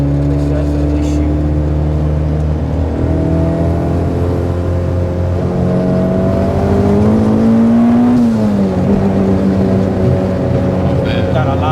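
A 2006 Honda S2000 with a turbocharged K24 engine swap accelerates in a ride-along, its loud engine tone rising and climbing steadily through the pull from inside the car.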